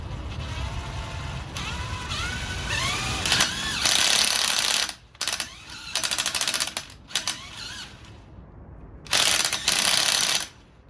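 A drill spins a Nissan 300ZX VG30TT alternator in repeated bursts, rising and falling in pitch with ratcheting, whirring mechanical noise between short pauses.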